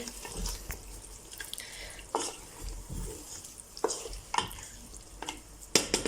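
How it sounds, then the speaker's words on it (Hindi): Peas and chicken cook in a pot while a spoon stirs them, with soft scraping and intermittent clacks over a low, steady sizzle, fairly quiet and close. "इनको भी हम अच्छी तरह चिकन के साथ पका लेंगे।"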